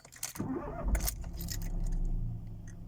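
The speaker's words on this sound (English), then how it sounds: "So start the car now." A Renault Clio engine cranks and catches after a battery change, then settles into a steady low idle rumble close by, with a faint jingle of keys at the start.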